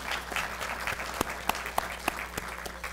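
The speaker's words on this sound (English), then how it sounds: "if we can give the Glasscock School a round of applause for their support of this program" Audience applause at a Rice University classroom event, a steady crowd clapping for about three seconds with a few sharp louder claps standing out, no talking.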